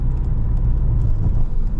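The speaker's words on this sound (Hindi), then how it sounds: "गाड़ी चली गई, इंडिविजुअल में" A manual Skoda Octavia vRS245 pulls away, its engine making a steady, loud, low rumble throughout with no voices.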